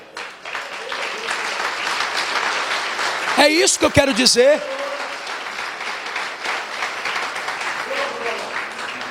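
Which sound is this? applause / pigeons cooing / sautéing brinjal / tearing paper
applause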